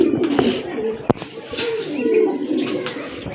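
Large Giribaz pigeons coo close by in soft, throaty murmurs, broken by a sharp click or wing tap partway through.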